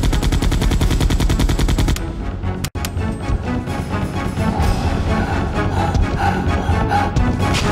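Gunfire in Resident Evil 2 opens with a fast, loud automatic burst of evenly spaced shots, then a single sharp blast, followed by rumbling chaotic action noise.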